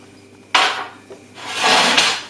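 Flours, salt and bicarbonate of soda stirred together in a bowl for Irish soda bread, heard as a few soft scraping, rubbing strokes close by, with a brief knock between them and no talking.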